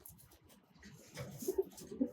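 Soft pigeon cooing in a loft, a few low rounded coos rising near the end of the clip, faint and close against quiet room noise and light rustling.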